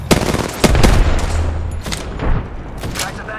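Apex Legends battle with rapid bursts of gunfire and loud booming shots up close, dense and overlapping, with voice lines mixed in.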